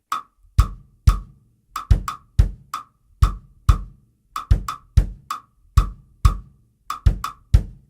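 A drum kit plays a syncopated clave-style pattern, crisp high clicks paired with low kick thumps, repeating steadily with no voices.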